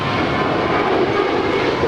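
A five-year-old JetBlue Airbus A321 departs Los Angeles International Airport, its engines making a loud, continuous roar that holds steady throughout, with no talk over it.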